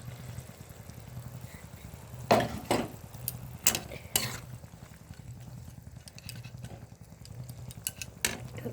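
Boiled eggs and fried chicken are tipped into a pot of simmering gravy for egg chilli chicken, with several sharp metallic clinks and scrapes of a spoon against the pan over a low steady hiss.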